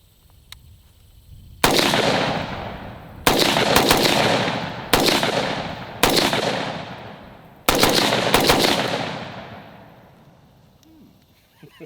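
Five loud, close rifle shots from a Type-A rifle fired outdoors, spaced a second or two apart, each with a sharp crack and a long rolling echo that decays between shots.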